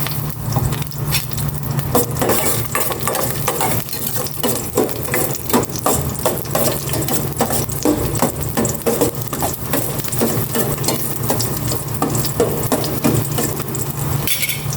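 Garlic sizzling and frying in cooking oil in a pan, a steady dense crackle with occasional stirring clatter, close and continuous with no talking.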